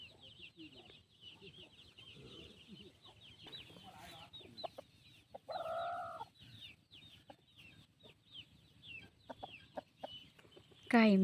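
Chickens cluck and chatter close by on a rural village farm, with scattered short calls, a louder squawk midway and another sharp burst at the end over quiet background.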